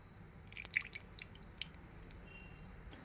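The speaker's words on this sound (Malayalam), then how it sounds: "2 ടേബിൾ സ്പൂൺ വെളിച്ചെണ്ണ ഒഴിച്ചു കൊടുക്കുന്നു." Two tablespoons of coconut oil go into a hot pan for a papaya curry. Faint crackles and soft drips sound near and brief over a quiet hiss, with no talk.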